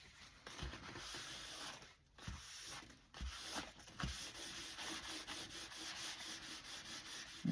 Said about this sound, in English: be careful rubbing that if you get glue smushed out too much, because it'll weaken your fold and it'll break